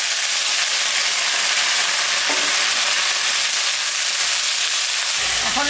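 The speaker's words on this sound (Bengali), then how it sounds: "পেঁয়াজটা ভাজা ভাজা হয়ে গেছে" Onions fry in a pan for a Bengali fish curry with potato, eggplant and beans, a loud, continuous, close sizzle and hiss with brief stirring scrapes near the end.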